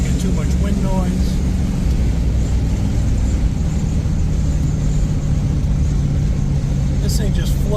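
A 1965 Chrysler 300 cruising along a road with a steady engine drone and constant road and wind roar, heard from inside the cabin.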